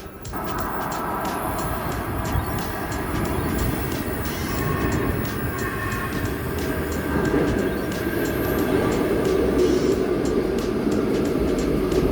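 A Baltimore Metro subway train rumbles steadily along the tracks toward Owings Mills, a loud continuous roar with faint rhythmic clicks of wheels passing over rail joints.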